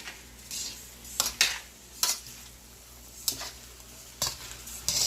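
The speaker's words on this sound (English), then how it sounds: "I'm just going to stir it off in there" A utensil stirring beef and broccoli in a pan, with irregular scraping clinks against the metal every second or so over a low background hiss, with no talking.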